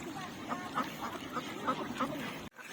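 Ducks and geese being fed give a run of quick, rhythmic quacks, about seven in a row at a moderate distance, fairly faint over a soft outdoor background.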